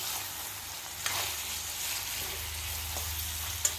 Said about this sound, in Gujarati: વેજીટેબલ એડ કર્યા પછી બરાબર હલાવી લઉં.